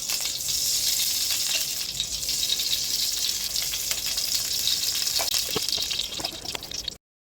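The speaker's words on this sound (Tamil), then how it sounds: "பாத்திரம் நல்லா சூடான உடனே 4 ஸ்பூன் கடலெண்ணெய் ஊற்றிக்கலாம்" Four spoons of groundnut oil poured into a hot pan, giving a steady sizzle and crackle with a few small clinks, then stopping abruptly.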